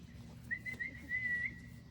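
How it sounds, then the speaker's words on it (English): During a training session, a person whistles one steady, thin note that lasts about a second to call a golden dog, with faint low background noise underneath. "Making noise like a whistle."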